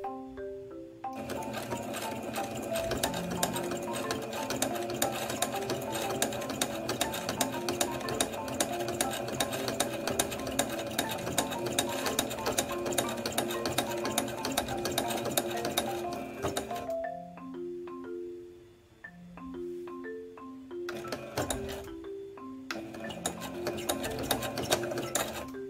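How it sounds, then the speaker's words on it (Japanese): A sewing machine stitches curtain fabric in long steady runs, its rapid mechanical chatter loud and close, pausing briefly before starting again in shorter bursts. "待ち針を踏んじゃわないことを確認して早速縫い始めていきましょう。"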